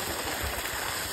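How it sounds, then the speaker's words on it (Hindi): Water spraying in a steady hissing rush over a peanut field before harvest, continuous and close, with no voices. "ये देखिए बराबर मारा फुहारा।"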